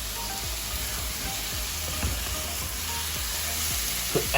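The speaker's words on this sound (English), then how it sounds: "We don't want to break the prawns, so we just nicely just mix it, or toss it" Prawns sizzling and frying in a hot pan with onions while being gently tossed and stirred, a steady crackling hiss with soft scraping stir strokes throughout and a few louder clatters near the end.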